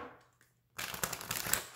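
An astrology-based oracle card deck is being shuffled, a soft pause followed by a dense, continuous riffling and flapping of cards lasting about a second, close and fairly quiet.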